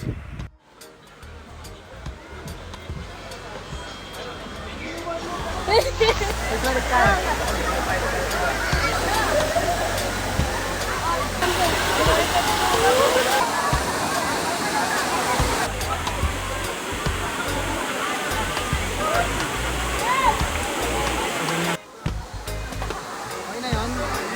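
The waterfall at Daranak Falls rushes in a loud, continuous roar throughout, with people talking faintly at times beneath the steady wash of water.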